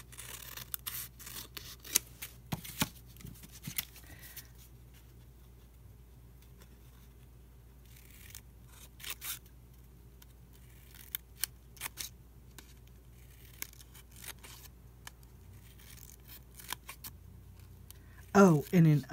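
Scissors snip through painted paper feathers in scattered, quiet cuts, with irregular clusters of sharp clicks separated by pauses over a faint low background.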